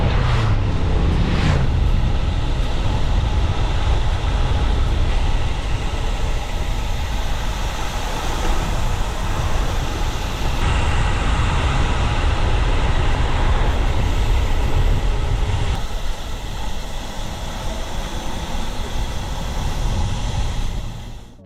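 Steady roar of heavy road traffic with motorbikes streaming past a road cyclist on a Specialized Tarmac SL8, loud and continuous throughout with no voices, swelling and easing slightly as vehicles go by.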